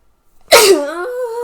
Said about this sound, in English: I'm fed up of sneezing today.